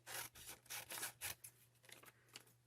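Scissors trim craft paper for a sublimation template, a quiet series of crisp snips and papery rasps close up, about eight cuts in an uneven rhythm.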